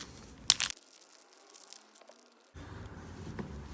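Opal stones being pulled from a bag: a brief close crinkling and rustle of the bag with small clicks, then quiet, and later a low rustling resumes.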